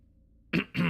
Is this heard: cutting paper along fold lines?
no